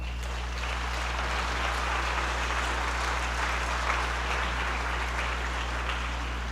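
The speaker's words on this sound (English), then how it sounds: "Please give them a round of applause." Audience applause at a school spring band concert recognizing the administration team, an even wash of clapping throughout over a low steady hum.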